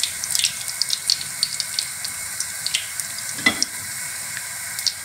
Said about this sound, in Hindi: ऑयल गर्म होगा तो फिर आपने चिकन पकौड़ा डालना है